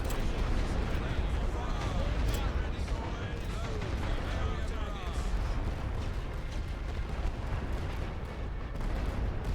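Dense, continuous rumble of artillery fire and explosions in The Great War: Western Front, a World War I strategy game, loud and unbroken throughout with a voice talking over it.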